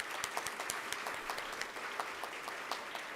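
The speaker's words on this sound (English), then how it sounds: "So a hand of applause to all of you." An audience applauds at a university achievement awards ceremony, steady crowd clapping with distinct individual claps, moderately loud and continuous without talk.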